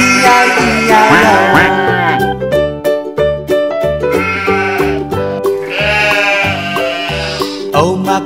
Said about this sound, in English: And on that farm he had a sheep, E-I-E-I-O